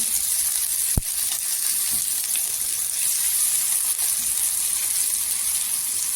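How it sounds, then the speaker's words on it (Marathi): Onions fry in a pan until golden for a spicy brinjal dish, making a constant close sizzling hiss with one sharp utensil tap near the start. "इथे कांदा गोल्डन झाला पाहिजे"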